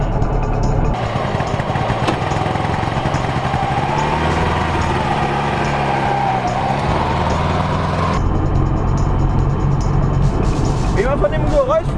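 A Goggomobil T250 classic small car with little sound insulation drives along, its small engine droning steadily and loudly up close inside the cabin for most of the stretch.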